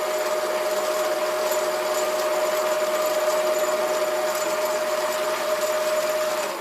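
A SIEG 7x14 mini lathe runs with its carriage driven slowly by the lead screw power feed, giving a steady whirring hum and a sustained motor whine that stay constant and moderately loud throughout, with no talking.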